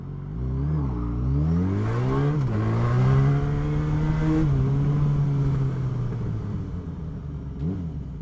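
A motorcycle engine rumbles steadily while riding through traffic, its pitch rising and falling as the rider accelerates and eases off, loud and close throughout with no talking.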